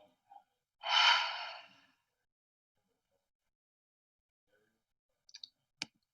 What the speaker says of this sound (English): Let's end this flow with a gentle cleansing breath out.